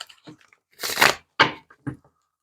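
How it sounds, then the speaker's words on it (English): Tarot cards being shuffled at close range, several short crisp bursts of riffling and slapping separated by brief pauses. "We're going to do a little shuffling on camera, though."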